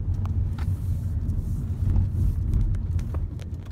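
A car accelerates gently by a hand-operated ring accelerator while pulling out of an industrial estate. It makes a low, steady engine rumble from inside the cabin, moderately loud and without distinct gear changes.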